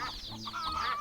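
Hens cluck and squawk in the farming video game My Time at Portia, a short, close burst of agitated calls with no talk over it.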